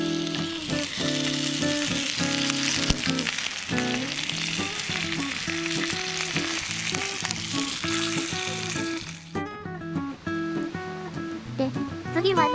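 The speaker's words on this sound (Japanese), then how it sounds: "兄様、チャーシューが炎上してますよ。" Chashu pork sizzles and flares over a campfire, a strong continuous frying hiss under steady music and talking voices, with a quieter stretch near the end.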